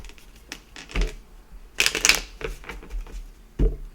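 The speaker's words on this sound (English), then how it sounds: "Give it a shuffle here." A deck of state cards is shuffled by hand, with soft riffling bursts and one longer flurry of card flicks in a quiet room, with no talking.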